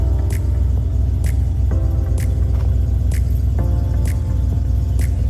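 A van engine idles steadily after a transmission repair, a constant low rumble with faint rhythmic ticking and light metallic jingles, close and alone without talk.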